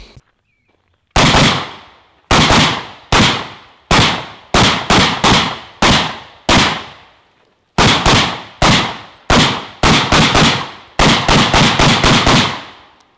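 Rifle shots ring out outdoors on a ranch, about eighteen loud, sharp cracks with echoing tails, some spaced out and others in quick clusters toward the end.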